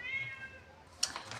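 A domestic cat meows indoors, a faint drawn-out cry at the start followed by a brief brighter sound, with no talking.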